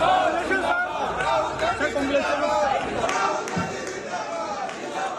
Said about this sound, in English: A large crowd of opposition lawmakers chanted Mr. Gandhi's name as he made his way to the Parliament yesterday.